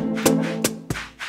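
A bass synth in Logic Pro with flanger on and a softer attack plays a sustained, sweeping tone, broken by four soft rhythmic noise bursts across a short phrase.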